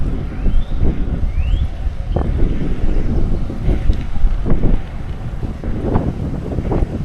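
Wind buffets the microphone during a ride on a Trek FX hybrid bike, a steady low roar with gusty swells throughout.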